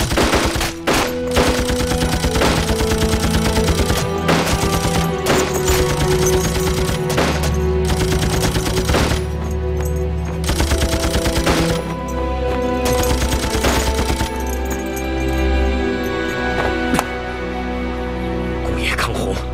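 Sustained bursts of rifle gunfire crack out in a Chinese anti-Japanese war TV drama, a volley of rapid shots repeating loudly over roughly twenty seconds above a droning soundtrack, with no clear voices.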